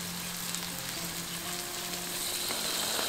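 Water is poured into a pan of oyster sauce and wilted vegetables for black pepper beef with eggplant, giving a steady, close, loud sizzle and bubbling with no talk.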